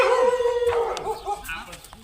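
A dog yelps and barks with a drawn-out whining howl close by, mixed with people talking over it, at the start of a short stretch of Gujarati comedy chatter.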